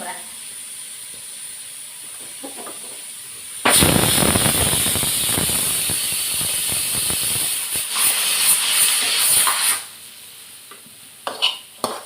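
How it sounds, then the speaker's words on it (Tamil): A pressure cooker on a stove, cooking coconut milk rice, releases a loud, hissing steam whistle that bursts in suddenly and blasts for several seconds, then cuts off. "மூணு விசில் வந்திருக்கு, போதும்."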